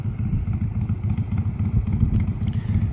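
A motorcycle engine idles steadily and close by, a low rumbling throb with slight clatter and no talk, just before a young rider's first ride on his own bike.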